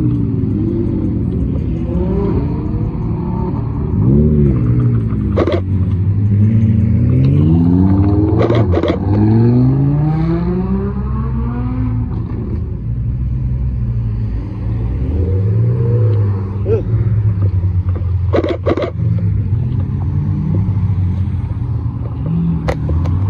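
Supercars, including a Lamborghini Aventador and McLarens, leaving the Supercarfest 2024 car show, with loud engines revving and accelerating away one after another, sweeping pitch as each passes close by, over a steady rumble.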